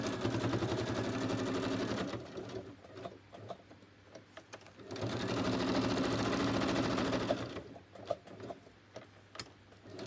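A sewing machine runs in two long, steady bursts while stitching a pocket, its rapid needle chatter close and continuous, separated by a quieter pause with small clicks and handling noises.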